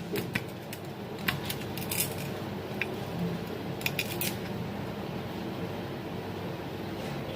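Jackfruit seeds are sliced with a knife into thin fry-style strips, making scattered crisp cutting clicks in short bursts over a low steady background hum, with quieter gaps toward the end.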